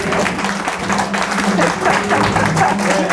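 Seated lecture audience rising to give standing applause at a public humanities talk, a dense steady wash of clapping lasting the whole stretch with a little talk mixed in.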